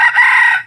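A decoy rooster gives one short, loud crow right up close, lasting under a second.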